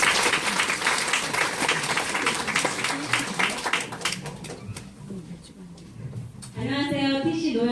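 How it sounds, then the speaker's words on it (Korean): Audience applause at a business seminar welcoming a speaker to the stage, a dense burst of clapping that thins out, with a voice starting to talk at the end. "박수로 환영해 주세요."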